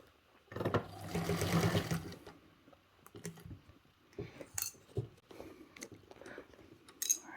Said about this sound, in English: So I'm just sewing where the staples are at the moment.